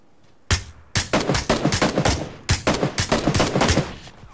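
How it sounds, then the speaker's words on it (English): Loud, close automatic gunfire in the battle royale game PUBG (PlayerUnknown's Battlegrounds), rapid bursts of shots separated by brief pauses, with no voices over it. "I'm getting shot from somewhere else."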